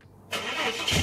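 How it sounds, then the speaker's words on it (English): A Ford Falcon engine fires up just after its fuel pump is replaced, catching within a moment of quiet and settling straight into a steady, close running note, alone. "The car then started very easily"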